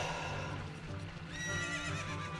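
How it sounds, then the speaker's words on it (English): Epona, the horse in Zelda: Ocarina of Time, whinnies loudly and close in the game audio, a rising and falling neigh with faint hoof clip-clop beneath it and steady background game music. "You can't, like, climb on her where she's neighing or anything like that either."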